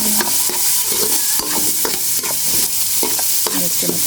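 Onions being stirred in a hot frying pan for a Filipino chicken sinampalukan lunch, a steady sizzle broken by repeated scraping strokes of the spoon at an even rhythm, close and fairly loud.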